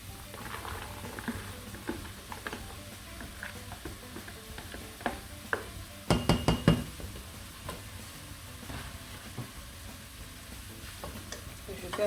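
Okra sizzles and crackles as it browns in a pan for gombo sauce, an ongoing frying hiss with spoon stirs and scrapes that get louder partway through.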